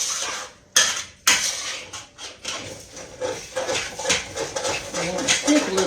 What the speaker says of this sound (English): I'm going to stir my grits